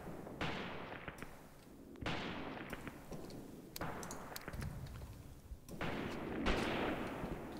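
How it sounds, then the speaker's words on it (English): Artillery shells impact in the war game Graviteam Tactics, several heavy booming blasts a second or two apart, each with a long rumbling decay, with sharper small-arms cracks scattered between them. "They really are going to be hit by artillery in just a moment."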